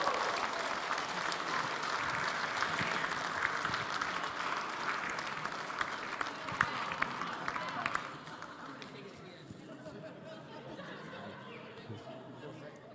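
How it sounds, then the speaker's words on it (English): A conference session audience claps for themselves in a dense round of applause mixed with chatter and some laughter, loud for about eight seconds before fading to quieter crowd murmur. "give yourself a big round of applause"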